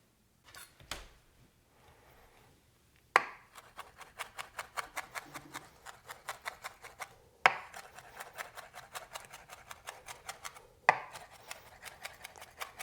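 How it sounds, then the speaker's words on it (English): A knife rocks rapidly through fresh thyme and chives on a cutting board, in bursts of quick, even taps separated by short pauses, close and crisp with no talking. "what we're going to do is we're going to run our knife through this and cut it up very, very fine"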